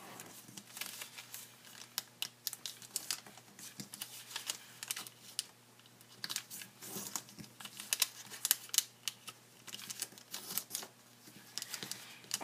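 Close paper crinkling and soft creasing as sheets are folded into an origami frame, with irregular rustles and sharper crackles spread throughout, fairly quiet and without speech.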